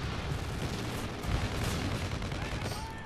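Rocket-strike explosions in a video game drop zone mode, heard as a continuous, dense roar of blasts and gunfire rumbling throughout, with no voices.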